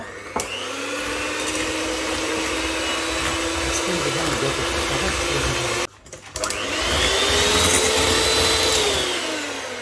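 An electric hand mixer beating sugar, vanilla sugar and a pinch of salt, a loud steady whine that cuts out briefly partway through, then resumes and runs on.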